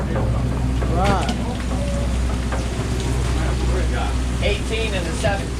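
Heavy rain pours down at night on a fishing boat off Madeira Beach, Florida, a steady dense hiss under scattered talk among the people aboard.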